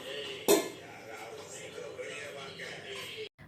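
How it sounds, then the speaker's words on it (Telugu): A sharp clatter of pots and dishes as a child plays with them, then muffled rattling and soft background voices in a room. "గిన్నెలతో ఎందుకు ఆడుతున్నావు"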